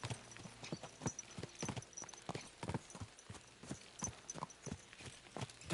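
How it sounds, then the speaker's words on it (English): Horses' hooves clip-clopping in the video game Kingdom Come 2, an irregular run of sharp hoof strikes from more than one horse, fairly close and moderately loud, continuing throughout. "Let's really spur these horses on, eh?"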